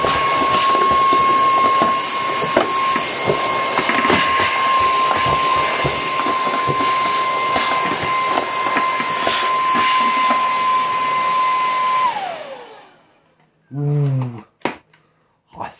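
A Miele S7 upright vacuum cleaner running at maximum power with a loud, steady broadband roar and a high whine for about twelve seconds, then winding down to silence, followed by a few short bumps and a brief voice.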